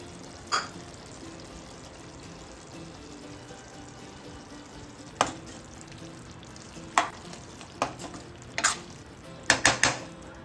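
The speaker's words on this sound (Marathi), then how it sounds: "भाजी परत एकदा छान मिक्स करून घ्यायची आहे" A cooked Bhogi vegetable curry is stirred in a pan under a soft ongoing simmer, with scattered sharp scrapes and clinks of the spoon that bunch into a quick cluster near the end.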